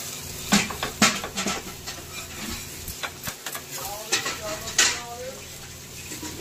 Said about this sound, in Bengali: এইগুলো লাউয়ের ছিলে। সামান্য তেল দিয়ে নেব।